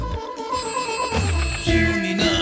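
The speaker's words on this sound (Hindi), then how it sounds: "फोन बज रहा है" An electronic phone ringtone plays a short melodic tone pattern, clear and fairly close.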